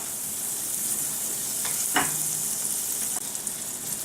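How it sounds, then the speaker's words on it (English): A tablespoon of butter melts in a hot pan with a faint, steady sizzle, broken by a few light clicks and taps from the cookware, and no one speaking. "I want to just grab this 1 tablespoon of butter, just drop it in this pan, let it melt down"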